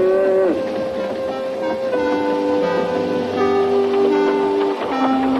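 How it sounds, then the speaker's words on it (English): A cow standing on a railway line lets out several long, drawn-out moos that rise and fall in pitch, loud and near, over a faint tonal background. "Moo, said the cow."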